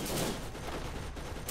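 Rapid turret gunfire in the video game Borderlands, a dense burst of rattling shots with no clear gaps, loud and close throughout.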